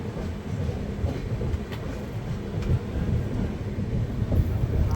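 Passenger train running on the line near the Tamil Nadu–Kerala border by Walayar, heard from onboard as a steady close rumble with faint clickety-clack of wheels over rail joints.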